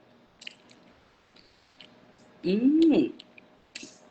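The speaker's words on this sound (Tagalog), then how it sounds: "Malutong rin yung buntot." Crunchy dried fish (tuyo), tail included, is chewed up close with small crisp clicks and squishes, and a short voiced hum of enjoyment sits in the middle.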